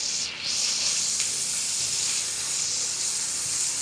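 Onion, dried chillies, ginger and garlic paste sizzle in hot oil in a pan, a steady bright hiss close by with no talk.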